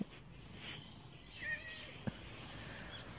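A cat gives a faint, short meow amid quiet outdoor background noise on a street, followed by a brief tap, with no clear talking.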